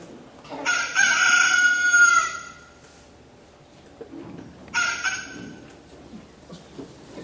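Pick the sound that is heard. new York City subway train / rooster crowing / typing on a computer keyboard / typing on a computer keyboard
rooster crowing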